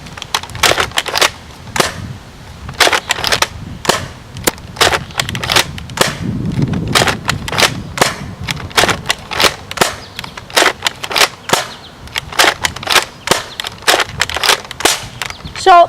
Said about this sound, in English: So those are the few shots I just sent off